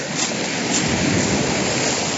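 Heavy sea on the Albanian coast washes continuously onto the shore, a loud, close, unbroken roar of surf without talk.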